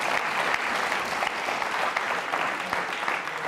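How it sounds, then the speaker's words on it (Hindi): A crowd claps energetically at a Jain school quiz program about Lord Mahaveer, with sustained, even applause from many people filling the room without a break. "एक बार फिर तालियां बजाइए"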